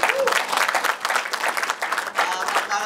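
Dense audience applause at a talk event, a fast, crackling patter of many hands clapping together for a few seconds, with a voice faintly heard through it.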